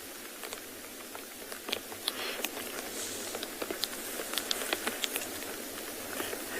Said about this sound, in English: You can probably hear the rain now.